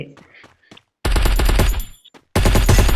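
Rapid bursts of automatic gunfire ring out in a Free Fire mobile battle game, two loud dense volleys separated by a short silence, preceded by faint game sounds and a brief voice.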